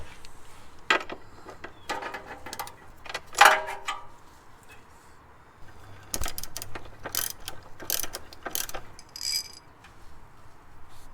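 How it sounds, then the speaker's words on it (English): Ratchet removing four 14mm nuts from the front crossmember of a Subaru Impreza WRX, heard as several bursts of quick ratcheting clicks separated by pauses, fairly close and moderately loud. "let's remove the front crossmember by removing these four 14mm nuts"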